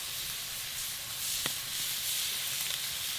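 Shishito peppers sizzle on a hot Kamado Joe grill as their skins blister, a steady soft hiss with a single sharp pop partway through and no voices.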